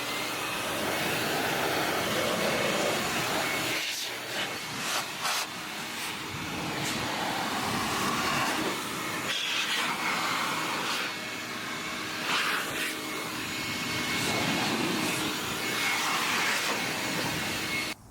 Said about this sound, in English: if you grab your shop vac and you put the blast nozzle tip, you can clear out your car